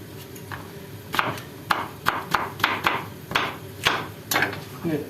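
A knife chopping through a pepper on a cutting board while making a warm salad, giving a run of about ten sharp, close knocks at uneven intervals with no talk.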